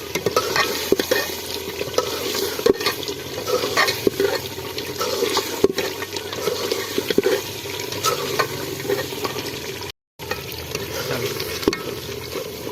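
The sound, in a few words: chicken curry meat frying and being stirred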